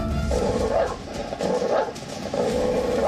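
Stray dogs bark in news footage, three harsh, mid-pitched bursts at a moderate distance over a steady, noisy background.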